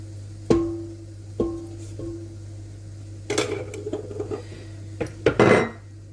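A utensil clinks against a pot while sticky toffee pudding mixture is stirred, leaving a few ringing metallic taps over a steady low hum, then a busier clatter of scraping and knocks near the end.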